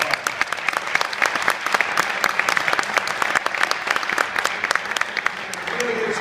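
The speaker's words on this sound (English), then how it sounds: "I think we need to give each other a round of applause." Audience applause, a dense and steady run of many hands clapping, fairly close and sustained at an even level without a break.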